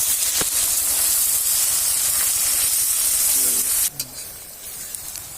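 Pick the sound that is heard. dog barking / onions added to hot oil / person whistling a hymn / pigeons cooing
onions added to hot oil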